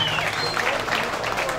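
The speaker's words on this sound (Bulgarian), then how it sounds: "така че аплодисменти за всички организатори" Concert audience applauding the organizers at a music event in London, a dense, sustained burst of clapping from a large crowd, loud and even throughout.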